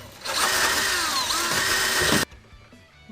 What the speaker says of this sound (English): we need to get a drill on this.